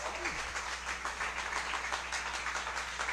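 A church congregation in Darigayos claps together in steady rhythmic applause, a dense fairly soft patter of many hands sustained throughout.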